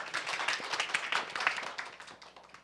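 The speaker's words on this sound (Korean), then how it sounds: "박수로 맞아주세요." Quiet clapping from an audience at a Korean book launch and campaign ceremony welcomes a speaker to the stage, a brisk, uneven patter of hands that thins out toward the end.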